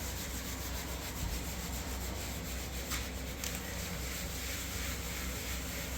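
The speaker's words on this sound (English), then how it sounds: "First I break it loose, sand it down." Hand sanding of a repaired patch on a wall, heard as a continuous dense scratchy rubbing that runs steadily with little break, fairly close and alone without talk.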